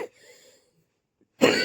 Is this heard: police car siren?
no